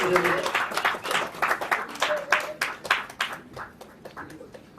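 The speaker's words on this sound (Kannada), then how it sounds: "ಜೋರಾದ ಚಪ್ಪಾಳೆ ದಯವಿಟ್ಟು ಬರಬೇಕು" A crowd at a celebration event bursts into loud applause for actor Dhananjay, a dense wash of clapping that gradually thins out and fades near the end.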